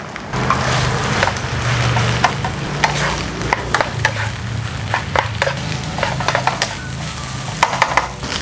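Egg and cooked rice stir-fry in a pan with garlic for Thai egg fried rice, a loud close sizzle broken by repeated sharp clacks of a spatula scraping and tapping the pan.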